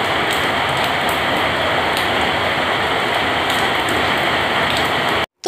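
Heavy rain pours onto a rooftop in a dense, steady hiss with scattered louder drops, close and constant until it cuts off abruptly at the very end.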